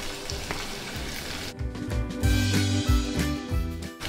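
Onion paste and garlic paste frying in oil with dried fish, a close, steady sizzle that grows louder as stirring picks up, with scraping and clinking from a spoon against the pan.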